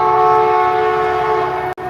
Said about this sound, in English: A train is about to blast by me. The southbound train.